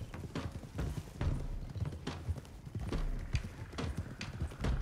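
A group of horses is ridden at pace in the western video game Red Dead Redemption 2, their hooves clip-clopping in a steady, overlapping rhythm on dirt, fairly close and continuous throughout.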